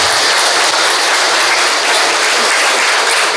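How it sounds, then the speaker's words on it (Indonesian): Loud, dense applause fills a church during a wedding ceremony, a continuous roar of many hands clapping close by, with no gaps and no speech over it. "Mari kita beri tepuk tangan yang meriah."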